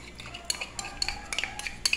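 Utensils clink and scrape against a bowl as kangkong salad with water and honey is tossed, a run of light, irregular taps and rattles close by with no talking.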